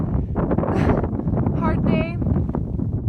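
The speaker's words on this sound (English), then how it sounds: "Really windy" Strong wind buffets the microphone on a foggy mountain ridgeline in New Zealand's Nelson Lakes wilderness, a steady loud roar with gusty rumble running throughout while a person speaks briefly over it.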